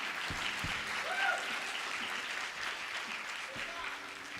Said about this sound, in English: Can we have another round of applause for Teja?